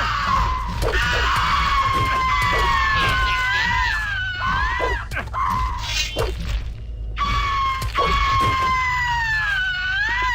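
Harpies in the video game Gothic screech in repeated shrill, warbling cries that rise and fall over several seconds, loud and close amid clattering combat noise.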